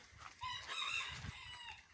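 Silkie chickens, hens and a rooster, clucking and calling in a farmyard enclosure, faint and somewhat distant, several short calls in quick succession with no talking.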